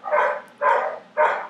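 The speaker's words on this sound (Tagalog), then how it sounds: "Pasensya na kayo sa mga asong kumakahol." Dogs bark three times in a steady rhythm, each bark a loud, full, close burst separated by short pauses.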